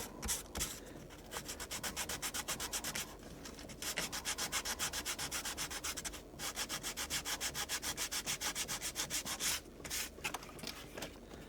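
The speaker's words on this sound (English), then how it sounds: "The more you sand, smoother you make it." A coal factory diorama scenery piece is sanded by hand in quick back-and-forth strokes, a rhythmic scratchy rasp repeating steadily with brief pauses between bursts, close and fairly quiet.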